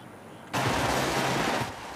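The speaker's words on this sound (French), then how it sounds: "Des feux d'artifice, comme s'il en pleuvait." Fireworks burst over Paris at the New Year 2025 celebration by the Arc de Triomphe: a sudden, loud, dense crackling roar of overlapping explosions that holds for about a second before easing off.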